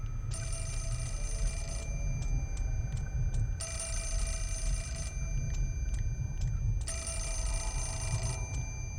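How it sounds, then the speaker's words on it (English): A telephone rings in the horror video game Fatal Frame IV, three long bursts of shrill electronic trilling separated by short pauses over a low, steady background drone. "Goddamn phone."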